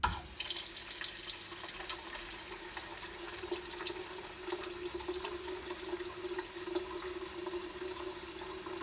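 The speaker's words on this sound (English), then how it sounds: "we need to pour a full 1 litre of 7-Up free." Britvic Spire drinks dispenser pouring 7-Up Free syrup into a container, a steady continuous liquid stream with a faint hum underneath, close and unbroken throughout.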